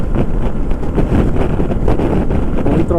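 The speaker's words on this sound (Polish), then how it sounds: "trzeba walczyć z tym wiatrem" Strong wind roars continuously across the microphone while riding a Honda S-Wing 125 scooter on a motorway, a loud, steady buffeting rush with no breaks.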